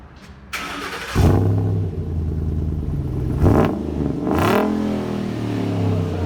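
A 2012 Ford Raptor SVT with a 6.2L V8 and aftermarket Roush exhaust fires up and revs hard, its deep, throaty exhaust swelling through several loud blips before settling into a rumbling idle, close by with no talking.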